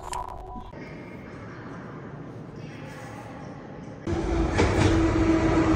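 A Yerevan metro train rumbles steadily inside a station in the Karen Demirchyan underground, a low continuous drone that jumps suddenly louder partway through as the cars rattle past.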